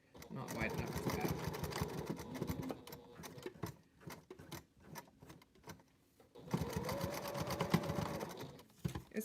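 A home sewing machine runs in two bursts, stitching a zipper seam on a fabric packing cube, its fast rhythmic needle chatter close and steady with a quieter stretch between runs.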